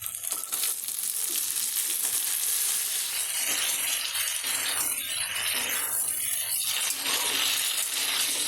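Pressure-cooked boiled chickpeas going into a sizzling pan of fried tomato for Bengali ghugni, giving a continuous close frying hiss with stirring scrapes and small clinks throughout.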